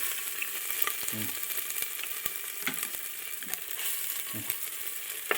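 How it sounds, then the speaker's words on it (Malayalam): Ginger garlic paste sizzles steadily in hot oil in a pan, a soft continuous frying hiss with occasional scrapes and clicks of stirring, no voices. "എണ്ണ തിളച്ച് വരുന്നു. അതിലോട്ട് ജിഞ്ചർ ഗാർലിക് പേസ്റ്റ് ഇടുക."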